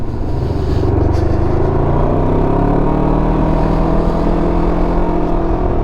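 A Can-Am Ryker 600 three-wheeled motorcycle with an old, loud exhaust on the throttle: a loud, steady engine roar with a deep, rumbling exhaust note, revving continuously up close without any voices.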